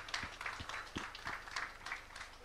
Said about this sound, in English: And we can give another big clap.